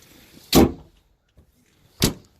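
Two loud, sharp door thuds about a second and a half apart, close by, from the large double door of a 4x4 ambulance conversion being opened and shut, with quiet between them and no talking.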